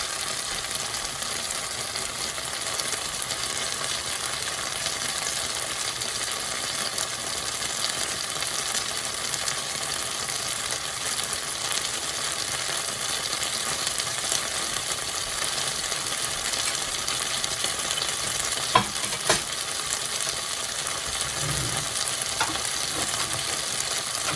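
Shrimp and green beans cooking in a pan, a steady, even sizzle held for a long stretch, with a few clinks and scrapes near the end, no voices.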